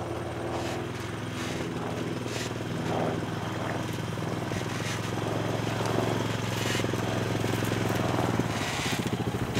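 A quad bike engine drones continuously in a vineyard where pinot noir vines are being netted against birds, a steady low rumble throughout with faint intermittent background sounds.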